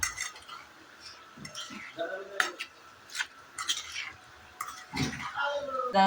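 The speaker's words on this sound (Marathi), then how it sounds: "आता ह्या सगळ्या फोडी ह्या तेलामध्ये मिक्स करून घ्यायच्या" Metal utensils clink and scrape against a pot while amla pickle pieces are stirred into oil, in irregular close bursts with quiet gaps between.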